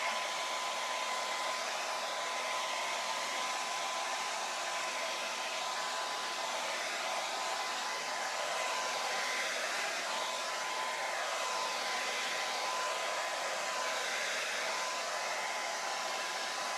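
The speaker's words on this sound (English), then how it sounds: "let's go ahead and do the hair dryer." A hair dryer blows steadily on wet paint on an owl door hanger, giving a constant, even whooshing hum with a faint whine that runs alone throughout.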